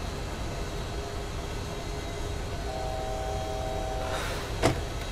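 Boeing 737-800 flaps extending to flap 1 in the FSX flight simulator: a thin motor whine rises for about a second and a half over a steady cabin and engine roar, then a single sharp click.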